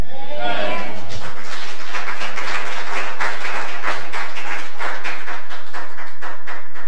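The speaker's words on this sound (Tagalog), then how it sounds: "Salamat po doon sa 5 pumalakpak" A few members of an El Shaddai prayer congregation in Doha, Qatar, clap sparsely and unevenly. The clapping follows a loud voice at the start and sounds close and a little harsh.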